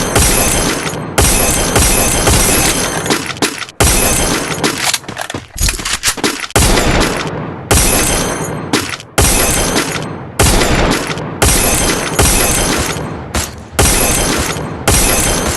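Loud, sustained gunfire from the video game Free Fire, with long automatic bursts broken by brief gaps and clattering shots stacked densely throughout.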